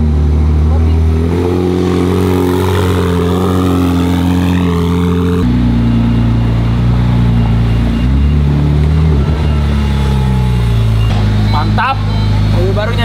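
A car's engine runs loud and close as the car is tried out, with a steady droning hum, shifting tone and revs, and people talking over it throughout.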